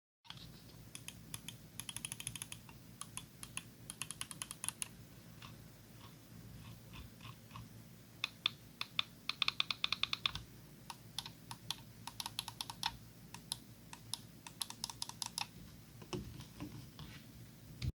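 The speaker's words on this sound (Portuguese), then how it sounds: "A única coisa que eu não gostei do scroll é o seu clique. Eu achei bem pesado e barulhento" Rapid light clicking from the scroll wheel of an ATK F1 Extreme Leviathan computer mouse comes in bursts of quick, crisp ticks, close and quiet, with brief pauses between bursts.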